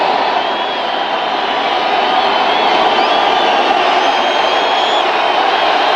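Crowd roaring steadily and loudly throughout at a 1987 Los Angeles Raiders vs Seattle Seahawks football game, a dense wash of noise with scattered whoops and no pauses.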